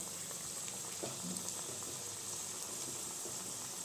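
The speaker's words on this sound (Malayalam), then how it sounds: "നമുക്കെല്ലാം ഇങ്ങനെ ഫ്രൈ ചെയ്തെടുക്കാം" Potato and onion snack batter frying in hot oil, a steady bubbling sizzle that stays even and close throughout with no voices.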